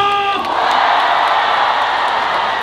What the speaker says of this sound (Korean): 다시 한번 박수와 함성!